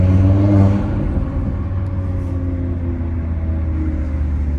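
Audi RS3 five-cylinder engine revving hard with the exhaust valves open, a loud close steady drone with strong low harmonics that swells briefly early on, no talking.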